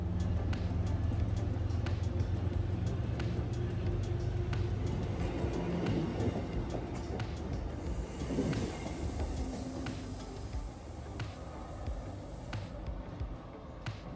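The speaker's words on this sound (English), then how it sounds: "Stoughton Line Train 873 continues on down the line" An MBTA Stoughton Line commuter train pulls away from Canton Junction station with a steady rumble of wheels and rolling cars, loud at first and gradually fading into the distance.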